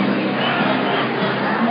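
A large crowd at the Odessa Victory March fills the air with a dense, steady roar of many voices and footsteps, continuous and unbroken throughout.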